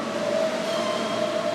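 A New York subway R train passes close by, a steady loud rumble with a sustained metallic whine running throughout.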